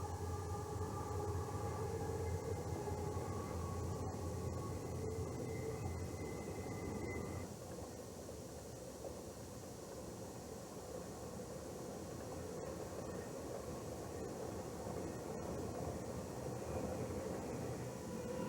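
A Santa Fe passenger train, the New York to Los Angeles QNY-LA, rumbles through Shoemaker Canyon, a steady low roar with a sustained tonal horn-like sound early on, heard from a distance and fairly faint.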